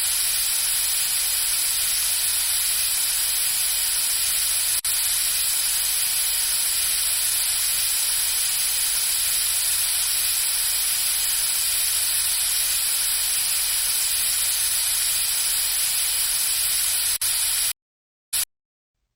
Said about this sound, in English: Let's spray some air to get the teeth nice and dry.